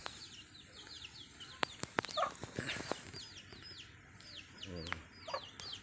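A Bisaya and Rhode Island crossbreed chicken clucks in short bursts amid other fowl and scattered chirping birds, with sharp knocks and a rooster-like call nearby, all outdoors with no talk.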